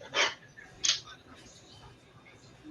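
A puppy gives two short, sharp yips about half a second apart, close but not loud, followed by quieter room noise.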